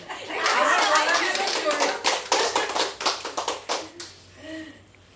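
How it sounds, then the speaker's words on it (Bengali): A group of elderly people at a Kolkata get-together breaks into a short burst of applause that thins into scattered claps, with voices chatting and laughing over it. "আপনাদের সকলের জন্য হাততালি"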